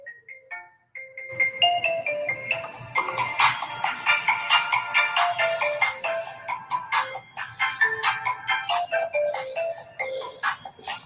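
A phone ringtone plays loud and close for about ten seconds, a busy melodic electronic ring repeating in steady bursts, with faint handling shuffles beneath.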